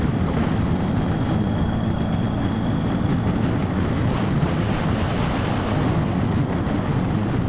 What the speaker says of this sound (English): Oh, too windy today.